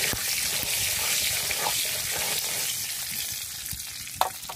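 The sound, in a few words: eggs frying in hot oil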